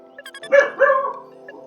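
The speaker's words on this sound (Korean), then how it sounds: "개가 짖네." A dog barks indoors in a Korean home during a GetAmped game session, giving two or three bright, close yips and barks with a short whine between them, fairly loud against a near-silent room.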